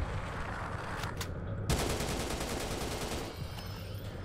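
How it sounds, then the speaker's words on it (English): Shotgun blasts aimed at rats in the sewer horror game RATMAN, a dense crackling burst of gunfire with a sharp loud report partway through and a steady rumble underneath, no voices. "Firing upon the rats."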